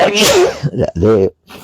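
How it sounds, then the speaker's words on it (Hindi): One sharp sneeze bursts out close up in the middle of a spoken Hindi devotional class, with the speaker's voice just before and after it. "गौर सुंदर की बात करी तो छींक आ गई।"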